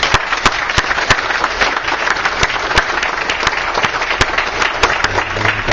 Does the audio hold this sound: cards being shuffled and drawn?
no